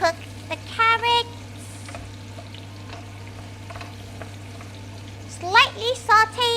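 Carrots sauté in a pan with a steady, low sizzle running underneath, while a voice talks briefly at the start and again near the end.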